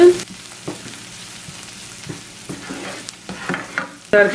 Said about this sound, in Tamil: இப்போ இதை மிக்ஸ் பண்ணி லைட்லியாக வதக்கி எடுப்போம்.